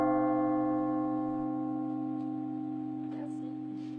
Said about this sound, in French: le bourdon de 5 tonnes 5, le beffroi de Douai et son carillon vous donnent le ton toute l'année